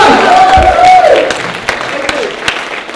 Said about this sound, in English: Everybody stand and give Daniel a big cheer.